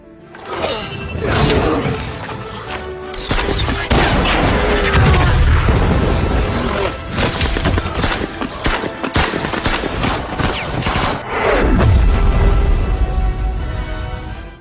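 Dense, continuous barrage of gunfire and heavy explosions from a close-quarters war film battle, with booming blasts and rapid volleys sustained loudly throughout without pause.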